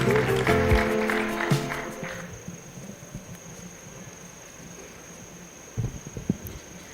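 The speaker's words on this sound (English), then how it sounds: "Give her another round of applause." Applause for a woman taking the stage at an aviation business awards evening, a dense clatter of many hands in the first two seconds that thins out into scattered claps and room murmur, with a few louder claps near the end.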